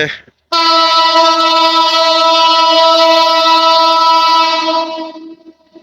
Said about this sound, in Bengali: এই যে ট্রেন ওই যে এখান থেকে ট্রেন আসতেছে